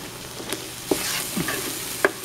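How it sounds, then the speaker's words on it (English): Low-carb pizza sauce simmering in a pan, a soft bubbling sizzle broken by a few sharp clinks and scrapes of a utensil against the pan, close by. "we're just going to let this simmer for, a couple more minutes, and then the sauce is done"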